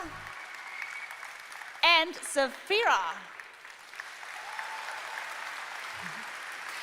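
Applause from a convention audience cheering cosplayers at Gamescom, a steady broadband patter running throughout beneath brief loud talking and exclamations from people nearby.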